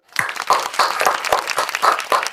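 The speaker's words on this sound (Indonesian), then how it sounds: "Tepuk tangan dong." A crowd applauds steadily, with clapping spread across the room, moderately loud and continuous throughout.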